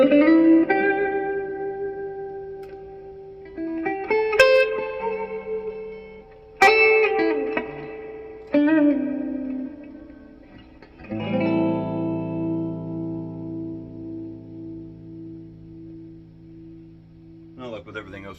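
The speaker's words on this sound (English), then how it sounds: "A good digital studio reverb." An electric guitar plays through a 1984 Roland JC-50 amp with digital reverb. Several chords and single notes are struck and left to ring out with a smooth reverb tail, and a long sustained chord decays near the end.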